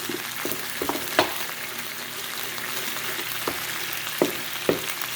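Chicken sizzles steadily in a pan for creamy lemon basil chicken, a constant frying hiss broken by occasional utensil clicks and stirring taps, with no talking.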